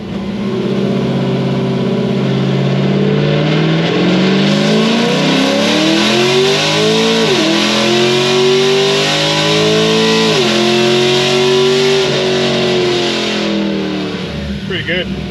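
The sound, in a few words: car engine revving during a dyno pull, wheels spinning on the shift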